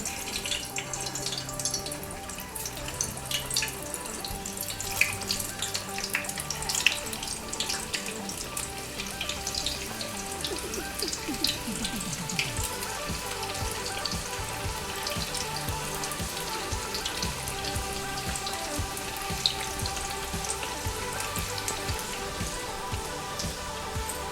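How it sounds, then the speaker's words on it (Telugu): Potato pieces for Kashmiri dum aloo sizzle and crackle steadily in hot deep-frying oil, a dense, even bubbling hiss that carries on without talk. "ఇప్పుడు ఆయిల్ హీట్ ఎక్కిపోయింది అనమాట. మనం ఈ ఆలుని ఇందులో వేసుకుందాము."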